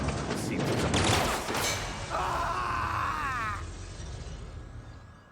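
Gunfire in the sci-fi video game The Outer Worlds: a loud, close burst of shots at the start, followed by groaning vocal sounds that fade away.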